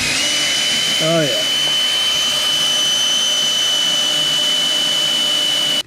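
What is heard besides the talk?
power drill drilling into Ford F-450 fender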